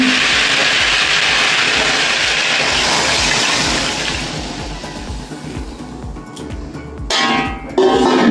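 Water poured into a hot pan of vegetable curry sets off a loud, rushing hiss that fades into bubbling and sputtering, with a brief clatter and a second burst of hissing near the end.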